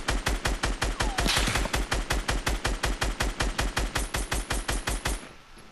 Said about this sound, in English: I've got 700 odd bullets in this scar, so I should. I can just keep shooting.